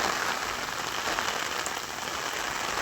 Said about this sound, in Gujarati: સવારથી બારીશ ચાલુ છે